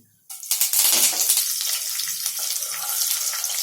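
Mustard seeds and curry leaves sizzle and crackle in two spoonfuls of hot oil, a sudden loud hiss that settles into a continuous, close frying sputter.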